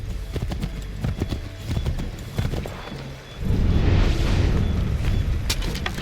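Horse hooves clip-clop at a steady gallop in Assassin's Creed 3, set during the battles of Lexington and Concord, with rumbling booms and battle noise swelling loudly behind the hoofbeats partway through.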